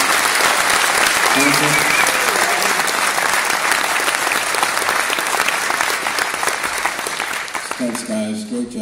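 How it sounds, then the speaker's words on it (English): Indoor audience applauding the sound crew at an event, dense sustained clapping that fades toward the end as someone speaks briefly. "give the sound man and the crew, please, an applause for being very patient, supportive"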